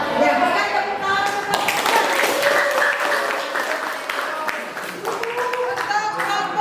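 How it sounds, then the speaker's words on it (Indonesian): A classroom group applauds another group of students, producing sustained dense clapping throughout, with voices talking over it. "berikan tepuk tangan"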